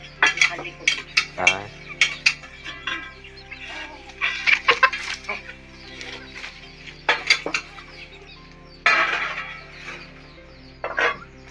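A black hen clucks repeatedly in short, uneven bursts, close by, with a steady low hum underneath and occasional clinks in the background.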